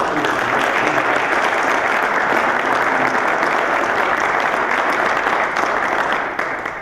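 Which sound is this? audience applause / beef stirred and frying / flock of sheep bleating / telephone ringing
audience applause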